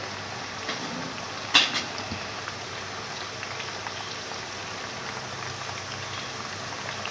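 Chicken cheesy French fries frying in oil give a soft, steady bubbling crackle, faint and even, with a single sharp clink near the start.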